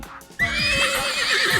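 A mare gives a loud, close whinny that rises sharply and trails off in a wavering neigh after a brief quiet start.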